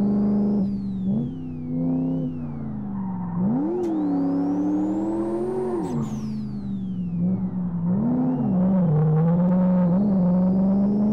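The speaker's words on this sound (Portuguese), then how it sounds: "Vamos fazer uns driftzinho." A Ford Landau 5.0 turbo revs hard while drifting in the Live for Speed racing game, its engine note rising and falling in long sweeping surges alongside a whining high turbo tone, loud and continuous with no talk.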